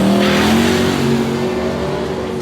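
A supercharged 532 cubic inch Chevy drag car engine revs loudly and close, a dense throaty roar whose pitch eases slightly downward over a couple of seconds.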